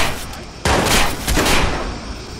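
Gunfire in the video game Watch Dogs, a sudden loud burst of rapid shots followed by a second volley that trails off, with faint shouting voices mixed in.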